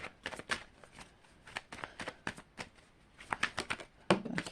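Tarot cards being shuffled and pulled from the deck by hand: a quick run of close, crisp flicks and riffles in uneven bursts, with a soft slap as a card is set down at the end.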